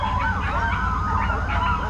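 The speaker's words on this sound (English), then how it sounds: "There's a siren going through town," A wailing siren rises and falls steadily over continuous low traffic rumble, sounding moderately close and loud throughout.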